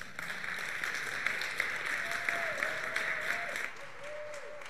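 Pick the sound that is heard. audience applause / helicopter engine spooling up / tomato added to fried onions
audience applause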